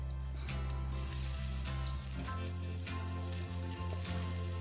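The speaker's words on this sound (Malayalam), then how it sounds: "കടുക് പൊട്ടി വരുന്ന സമയത്ത് നമ്മൾ അരിഞ്ഞു വെച്ച ചെറിയ ഉള്ളിയും പച്ചമുളകും കൂടെ ഇട്ട് കൊടുക്കുക" Chopped shallots and green chillies fry in hot oil with popping mustard seeds, a steady close sizzle with small crackles and occasional stirring scrapes, no talk over it.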